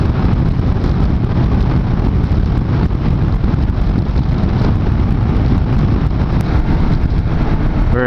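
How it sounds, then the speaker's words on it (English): Heavy, constant wind roar buffets a motorcycle rider's helmet microphone at about 70 mph on the highway, a dense low rumble filling the whole stretch with no break. "Getting super buffeted by the wind."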